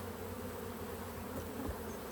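Honeybees humming in an opened hive, a steady, dense buzz of many workers close by, unbroken and fairly even with a faint swell partway through.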